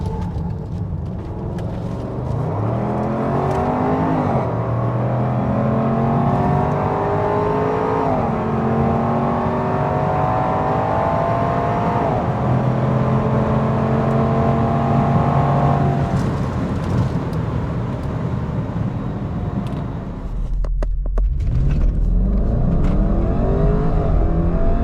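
A Range Rover Sport at high speed, around 120 mph, with a loud, continuous engine drone whose harmonics climb through repeated gear changes, then a brief dip as the throttle lifts and braking begins before the drone returns.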